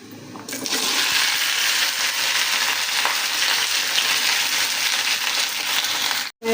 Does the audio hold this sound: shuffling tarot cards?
no